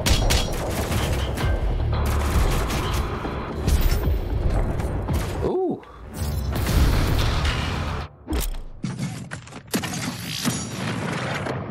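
Enemy weapons fire and heavy mechanical clanks in DOOM Eternal, loud and continuous bursts of shots and booms with a short swooping tone midway and a brief lull near the end.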